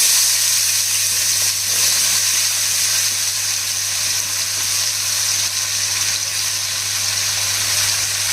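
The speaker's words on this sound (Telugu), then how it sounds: "ఇప్పుడు తిరిగి అదే కళాయిలో ఉల్లిపాయలు కట్ చేసుకున్న ఉల్లిపాయలు వేసేయాలండి." Chopped onions fry in a kadai, a continuous loud sizzle with a dense, even hiss and no break throughout.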